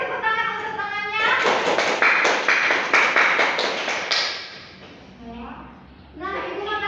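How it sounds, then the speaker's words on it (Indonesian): Students in a classroom clap together in a short burst of quick, close claps that fade after a few seconds, with children's voices chattering over and after the clapping. "Beri tepuk tangan untuk tangannya."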